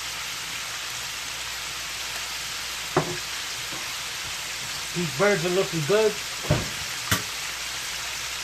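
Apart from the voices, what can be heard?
chicken deep frying in oil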